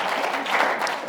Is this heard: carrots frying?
no